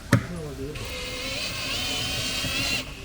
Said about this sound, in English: Just drill through.